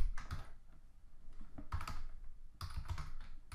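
Typing on a computer keyboard while writing CSS code, two short bursts of quick close key clicks separated by a pause, with nothing else over them.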